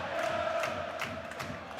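Crowd noise rises and swells in waves at a Super League rugby quarterfinal between Warrington Wolves and St Helens, a distant, diffuse roar of supporters with scattered shouts throughout.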